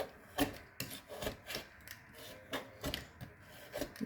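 Scraping dried acrylic wash off a surface with a scraping knife, a series of short, rough rasping strokes coming at irregular intervals, fairly close and quiet, with no talking.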